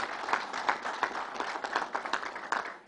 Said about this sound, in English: Let's give Matty a round of applause.